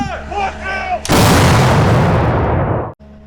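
A single deafening blast from a French TRF1 howitzer booms out after a brief voice, its roar rolling and decaying for nearly two seconds before cutting off.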